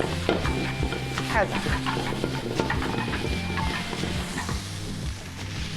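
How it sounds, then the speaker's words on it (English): Food sizzling in oil in a pan while a spoon stirs and scrapes it, with steady loud frying and repeated stirring clatter close up throughout. "I'm gonna add just a little bit oil so I can keep it moving in the pan."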